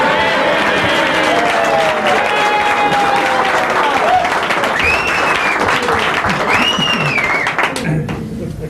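An audience claps steadily and loudly in a continuous burst of applause, with voices and whistling tones mixed in throughout.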